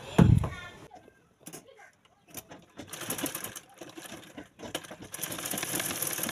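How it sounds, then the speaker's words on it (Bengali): A sewing machine set to stitch length 30 runs in short bursts, stitching almost in place and creeping forward only slowly, with loud mechanical whirring and clatter close by after an initial thump. "তিরিশে রাখার পরে সেলাই আর এগোবে না, এক জায়গায় সেলাইটা হবে।"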